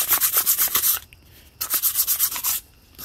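Rapid back-and-forth rubbing of 3000 grit wet/dry sandpaper on a piston skirt from a Kawasaki KE100 top end, in two quick bursts of rhythmic scratchy strokes separated by a brief pause.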